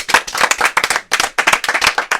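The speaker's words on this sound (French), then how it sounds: "Donc on peut l'applaudir." A small studio audience claps for the director of a school television show, with quick, close, uneven handclaps in bursts and a short pause partway through.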